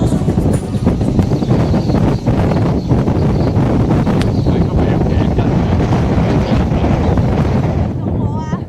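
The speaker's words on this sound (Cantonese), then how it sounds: "企喺呢一片開揚嘅地方，風亦都特別大，特別凜冽。" Strong, cold wind buffeting the microphone on an open mountain ridge, a loud continuous roaring rush that persists throughout.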